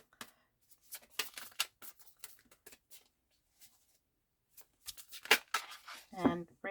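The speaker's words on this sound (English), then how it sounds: "And then I'll shuffle." Oracle and tarot cards are shuffled by hand in quick papery riffles and slaps, close and soft, coming in bursts with pauses between them, and a voice is heard briefly.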